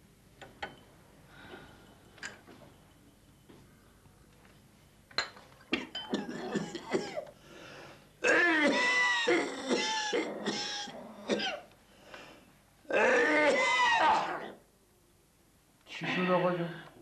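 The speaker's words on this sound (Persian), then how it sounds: "سینه درد و سرفه مال پیریه فقط." A few scattered coughs and throat-clearing sounds, followed by people talking in a quiet room.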